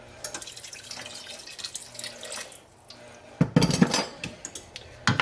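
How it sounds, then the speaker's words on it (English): Water runs and splashes into a pot of soaked navy beans, with clinks of the pot and kitchen clatter in bursts, loud and close, no one talking. "And I am going to add a little more water."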